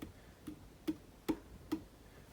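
Four faint, dull hand taps on an Eternal Cube Echo MKII speaker, spaced roughly evenly, each a short thud in an otherwise quiet room.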